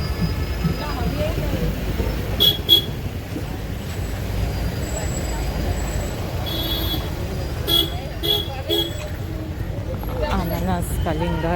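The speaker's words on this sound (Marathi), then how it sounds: "बाजार आणि हे ट्रॅफिक असलंच पाहिजे" Busy street traffic rumbles through the Chauke market in Malvan, with short car and bus horn toots scattered through the clip, and voices talking nearby over the steady low hum of vehicles.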